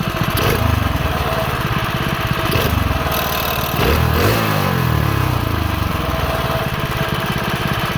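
Small mini bike engine runs loud and close with a buzzy, lawn-mower-like rattle, throttle revved up and back down a few times, sounding slightly rough and wet.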